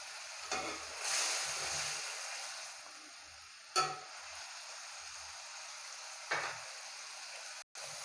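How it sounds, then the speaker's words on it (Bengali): Fish cooking down in a covered pan with a soft, steady sizzle, close and fairly quiet, with a few faint clinks and stirring knocks scattered through it and no talking. "মাছগুলোকে দিয়ে আমি ভালো মতো মিশিয়ে দেব এবং এটাকে 4 মিনিটের মতো ভালোভাবে কষিয়ে নেব।"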